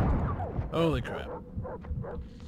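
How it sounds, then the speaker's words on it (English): Several dogs bark and yip in a Far Cry 3 game, a dense overlapping pack sound under a player's excited speech throughout. "That's a lot of dogs."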